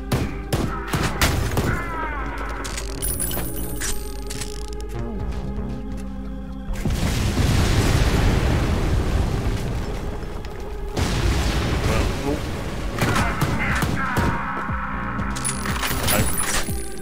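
Explosions from bombs in the shooter Ion Fury go off in a busy game mix, a heavy blast roaring through the middle and another later, layered over mechanical clanks and music-like tones, with no voice.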